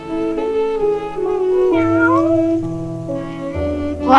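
Long, drawn-out meows from a cat in a forest-themed theatre play rise and fall in pitch, loud and close, with no talk over them.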